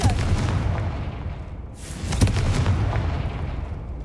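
Confringo fire spell blast in the Hogwarts Legacy game, a sustained loud roaring burst with a sharp explosive crack midway, then a rumbling tail, heard close.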